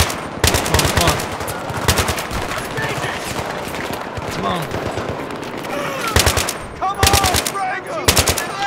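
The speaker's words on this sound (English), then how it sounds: "I'm freaking shooting right in front of you" Rapid bursts of automatic gunfire in the Battlefield 3 campaign mission Operation Guillotine, loud clusters of shots separated by brief pauses with battle noise between them; voices can be heard at times.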